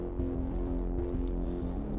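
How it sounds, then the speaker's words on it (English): A deep, growling synth bass from the Cyberbase Nullscape preset for the Vital synthesizer plays a repeating pattern of low sustained notes, thick and loud, with no voices. "the Cyberbase Nullscape Vital preset here"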